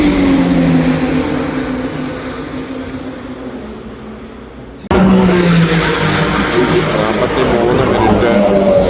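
Race cars at the Nürburgring 24 Hours, including Max Verstappen's Mercedes-AMG GT, roar past in a loud sustained engine wash that fades slightly, then jumps abruptly louder as another car passes close by.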